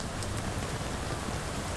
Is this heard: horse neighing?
no